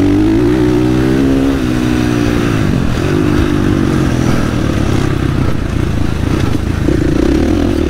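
A supermoto motorcycle racing at the Oschersleben motorsport arena, heard onboard with its engine loud and close, revving and dropping through gear changes as the pitch climbs and falls under constant wind noise.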